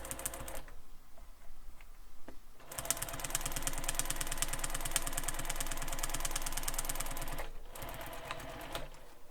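A sewing machine runs stitches across the bottom of a backpack panel, a rapid mechanical whir in two bursts, the longer one several seconds, with short quiet pauses, heard close up without voices.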